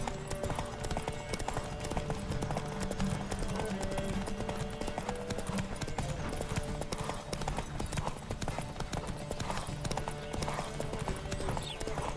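Horse galloping in The Witcher 3, with rapid rhythmic hoofbeats clopping continuously and loudly over game ambience and faint background sounds, occasional whinny-like tones mixed in.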